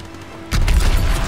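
A grenade explodes in Call of Duty WWII, a sudden loud boom that cuts in after a quiet stretch and rolls on with crackling, rumbling debris.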